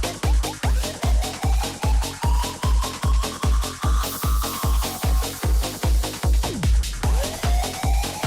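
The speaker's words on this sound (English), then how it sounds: "There's a sound that's happening too often and it's too loud. That one. Whoop. That upward sweep" A rising synth sweep glides upward within an electronic music track, sitting above a steady pounding kick-drum beat; it sweeps up near the middle and again toward the end, clearly audible and somewhat loud in the mix.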